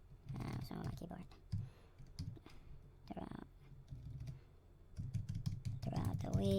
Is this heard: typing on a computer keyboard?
yes